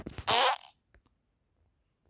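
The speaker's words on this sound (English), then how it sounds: "Let me fart." Cartoonish fart sound effect in the video game All Out, one loud brassy burst under half a second with a short tail, followed by quiet.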